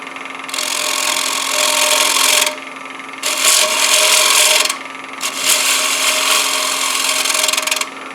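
Woodturning lathe taking a very gentle cut on an economy wooden bowl: three long, loud, steady scraping passes of the tool against spinning wood over a constant motor hum, with brief quieter gaps between, no talking.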